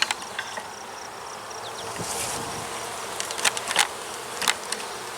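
Honeybees buzzing steadily around a hive while a queen bee is being marked, a close continuous drone with a few brief clicks and handling sounds, no talking.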